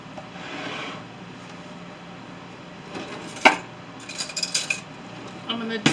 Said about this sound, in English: I'm going to mix up my chili